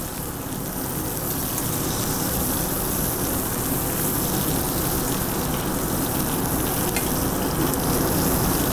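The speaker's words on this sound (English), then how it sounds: "as we're cooking that side, we could be basting the other side with our hot oil." Steak sears in hot oil in a pan during a reverse sear, a loud, steady, dense sizzle and crackle running close and unbroken throughout, with no talk over it.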